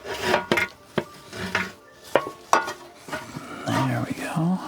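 A transmission pan and gasket on a 2007 Chevy with a 4L80-E transmission are slid into place underneath. Close, irregular metallic scrapes and sharp clunks come in short bursts with quiet gaps between them.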